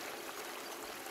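Water pumped through a gold sluice mat set at about 11 degrees, giving a steady, close trickling and streaming wash with no voices over it.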